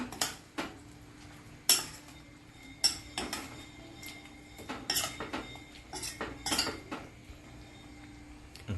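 Soya chaap masala curry stirred in a pan with a metal spoon, giving sharp clinks and scrapes against the pan at irregular intervals, close and clear with no voices.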